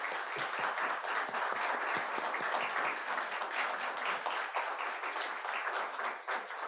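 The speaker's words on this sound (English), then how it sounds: "let's give them a round of applause" Audience applause for standing veterans at a comedy show, steady moderately distant clapping throughout with no talk.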